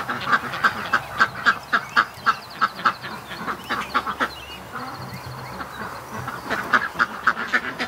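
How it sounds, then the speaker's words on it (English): Ducks quacking in a steady run of short, loud calls, a whole flock of parents with ducklings close by, pausing briefly midway before the quacks pick up again. "Oh, look at these ducks."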